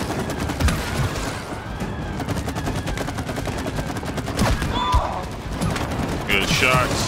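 Rapid bursts of gunfire from the co-op video game It Takes Two, dense and continuous throughout, with talk over the shooting.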